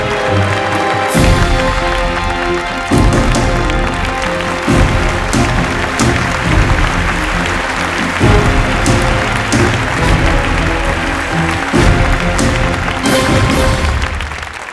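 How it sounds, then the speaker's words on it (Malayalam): Standing ovation for actress Sheela as she receives a Lifetime Achievement Award, with crowd clapping and some cheering running continuously under loud, rhythmic music with a steady beat. "നമുക്ക് എല്ലാവർക്കും എഴുന്നേറ്റ് നിന്ന് ഒരു നല്ല കൈയടി കൊടുക്കാം."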